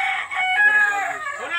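Chickens and a rooster crow and cluck loudly and close at a Kalabakan poultry site, a continuous raucous chorus with no talk over it.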